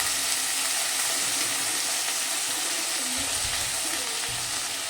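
Green chili paste goes into a hot pan of oil while a tilapia curry with raw tomato is being cooked, giving a steady, close, even sizzle and hiss that runs through the whole stretch with no talking.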